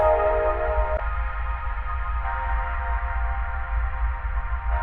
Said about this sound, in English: I believe the pad is from Heat Up 3. It's called Air Phantom.